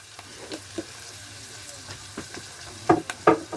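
Onions frying toward caramelization in a pan, a soft sizzle underneath with a few louder stirring scrapes near the end.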